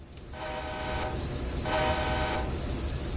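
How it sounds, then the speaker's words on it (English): Locomotive horn in the Feather River Canyon train simulator game, sounding in two long sustained blasts with a brief gap between them, fairly loud over a steady low rumble of the engine. "Let's listen to the horn."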